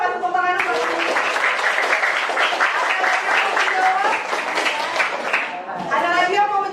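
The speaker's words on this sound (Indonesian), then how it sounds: "Tepuk tangan dulu, kasih tepuk tangan dulu." A schoolroom of students claps together in sustained, busy applause that keeps going for several seconds, with voices chattering and calling out through it.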